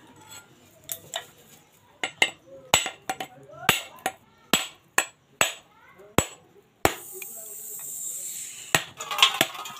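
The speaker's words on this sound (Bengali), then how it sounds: "নারকেলটা এখন ফাটিয়ে নেব।" Fresh coconut being cracked open, a series of sharp, loud knocks struck at uneven intervals, followed by a hissy rush as the water pours out.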